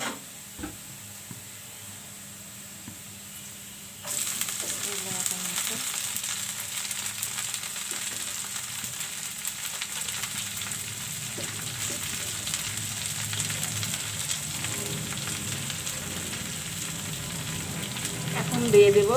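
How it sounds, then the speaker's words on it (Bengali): Cauliflower greens drop into a pan of browned onion, and a quiet background suddenly turns into a loud, continuous frying sizzle that keeps going to the end. "এখন আমি এখানে ফুলকপি শাকগুলো দিয়ে দিব।"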